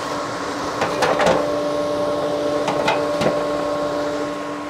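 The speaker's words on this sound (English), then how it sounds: "All I have to do is turn the dust collector on." A workshop dust collector running with a steady mechanical hum and whine that holds a constant drone, with a few brief knocks and clatters over it and no talking.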